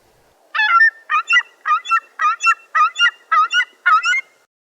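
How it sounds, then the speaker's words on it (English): A ring-billed gull gives a clear, close series of eight nasal, laughing calls at an even rhythm, each a short rising-and-falling squawk, alone against a silent background. "The calls of ring-billed gull are typical of medium-sized gulls, a nasal rising and falling series that sounds like laughter to some."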